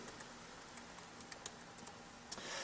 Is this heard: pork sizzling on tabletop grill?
no